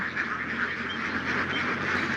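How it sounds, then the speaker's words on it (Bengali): A large flock of domestic ducks on a free-range duck farm, dense overlapping quacking from many birds at once, steady and loud throughout with no pauses. "দেখতে পাচ্ছেন প্রচুর হাঁস"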